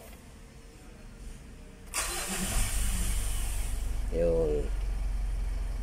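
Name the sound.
Mitsubishi Montero engine starting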